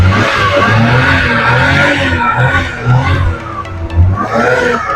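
Suzuki Multicab DA63 4x2 engine, in good running condition, revving near the exhaust pipe, a loud continuous rumble with rising and falling revs and a rough, throaty low end.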